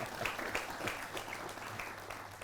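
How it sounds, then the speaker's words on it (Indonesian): Studio audience applause at a televised Islamic study program, a steady wash of many hands clapping at moderate volume for the whole stretch. "Tepuk tangan buat santrinya lah ya kan?"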